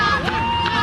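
A crowd at an American Ninja Warrior Junior event chants a competitor's name, the sound arriving as a brief roar of massed voices at moderate distance with a whistle-like tone running through it.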